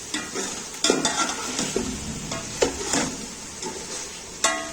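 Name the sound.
chicken pieces frying and being stirred in pot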